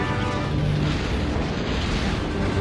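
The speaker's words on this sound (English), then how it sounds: "All gunboats lock on torpedoes and fire." Torpedo explosions rumble in Star Wars: TIE Fighter as gunboats attack a starship, a continuous dense low roar of blasts with no clear breaks, moderately loud throughout.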